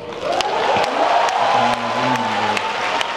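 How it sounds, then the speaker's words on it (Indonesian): An audience at a Jakarta festival discussion applauds for a speaker, giving a moderate burst of clapping with faint cheering and a voice mixed in. "Oke, ini tepuk tangan buat Masnya berarti ya"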